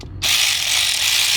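An ACDelco ARW1209 cordless ratchet wrench, rated at 45 foot-pounds with a compact body, whirs up after a brief pause and runs with a steady, loud, high mechanical buzz to the end.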